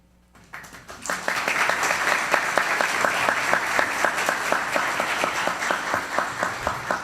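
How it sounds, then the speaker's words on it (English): An audience at a judicial investiture ceremony applauds to welcome Justice Labarga, former Chief Justice; clapping starts suddenly and holds as dense, even applause for several seconds. "Justice Labarga, they would have clapped faster, but they're told all the time not to clap until the end"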